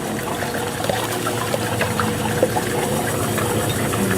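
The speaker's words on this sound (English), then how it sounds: "as soon as you start the machine up, go look in the sink, make sure the water's flowing" Cooling water from a water-cooled machine running into a sink, a continuous trickling, splashing pour with faint mechanical hum, steady and close, no speech.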